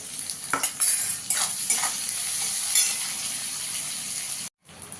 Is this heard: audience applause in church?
no